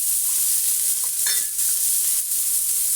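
Chicken and garlic stir-frying in a pan, a steady loud sizzle with a few brief scraping stirs, no voices.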